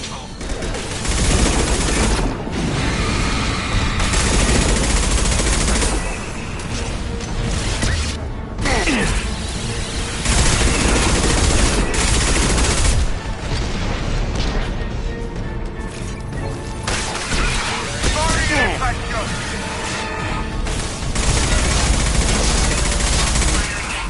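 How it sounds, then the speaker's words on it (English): Guardian anti-ship batteries in Mass Effect 2 fire at a Collector vessel in a loud, sustained barrage of rapid shots and crashing impacts lasting over twenty seconds, with no pauses. "Firing anti-ship batteries at collector vessel."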